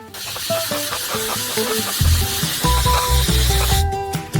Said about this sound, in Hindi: और हम नाइट्रोजन को सीधे गर्म कैरामेल पर स्प्रे करेंगे।